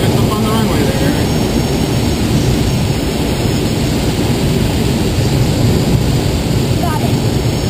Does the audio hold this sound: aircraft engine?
yes